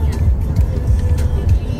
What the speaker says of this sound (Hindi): शेरा गाड़ी तेज कर लू।